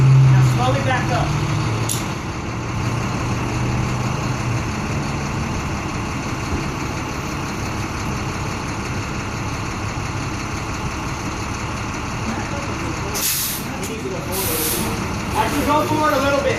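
Penske rental truck slowly reversing at a Shell gas station, a steady engine idle rumble with sharp bursts of air brake hiss near the end, while a voice gives directions.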